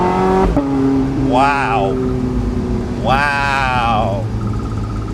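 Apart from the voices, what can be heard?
Porsche 918 Spyder engine exhaust heard inside the car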